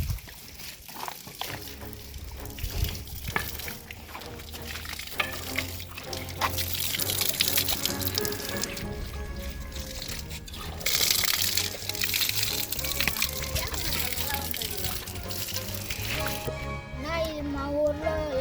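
Water pours and sloshes steadily for about eighteen seconds, growing fuller partway through, with children's voices and other talk running over it.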